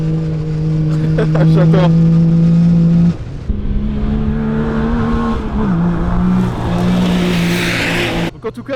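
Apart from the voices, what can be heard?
Yamaha YXZ 1000R buggy driving and revving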